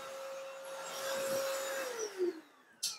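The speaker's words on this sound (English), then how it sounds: "So right now it actually vacuumed and it mopped with the wet solution." A cordless vacuum and mop runs over a hardwood floor, its motor giving a quiet whirring hum whose tone drops as it winds down, followed by a short sharp click at the end.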